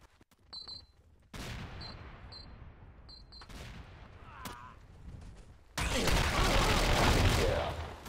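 Gunfire in a first-person shooter video game: scattered shots and small bursts, then a dense, loud stretch of sustained fire near the end, with some faint talk.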